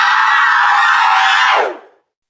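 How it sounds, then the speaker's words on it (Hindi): A woman's long, piercing scream rings out loud and sustained for well over a second, then cuts off sharply into silence, dramatic and horror-like with no other voices. "कुटिया के पास एक खौफनाक सी आवाज सुनाई दी, जैसे किसी महिला का चीखना"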